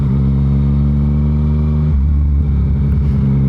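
A 2019 Yamaha MT-09 motorcycle engine running in B power mode, a loud close rumble with a distinctive tone that drops in pitch partway through as the revs fall.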